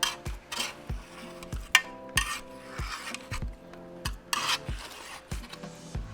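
A utensil scrapes set gelatin away from the sides of a mold in a series of short rasping strokes with clinking contact, repeated roughly every half second and heard up close.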